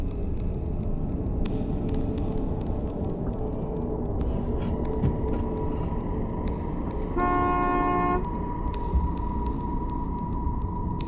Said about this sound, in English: Even honking doesn't seem to disturb this creature.